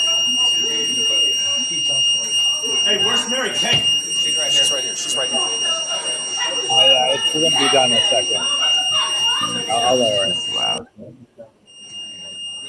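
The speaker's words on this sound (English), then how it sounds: "Yeah, somebody set off the alarm." An alarm sounds as a steady high-pitched electronic tone running continuously under lively overlapping conversation and laughter, then cuts out near the end.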